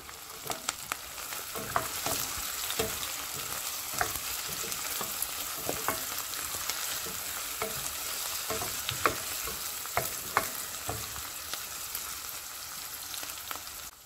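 Garlic cloves and peanuts sautéed in a pan for tamarind rice, giving a continuous close sizzle with frequent small pops and clinks from stirring, steady throughout and without talk.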